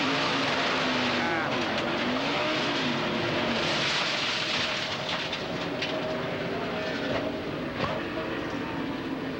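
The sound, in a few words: onboard audio of NASCAR race car crashing into wall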